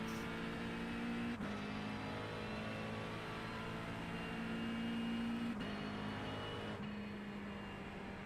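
A Corvette race car in the iRacing Sebring 12 Hours endurance race, its engine droning steadily. Several brief gear-shift breaks and pitch changes mark the run, and there is no talk over it.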